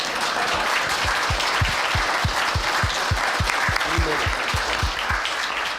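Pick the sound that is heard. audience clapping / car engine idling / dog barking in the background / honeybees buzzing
audience clapping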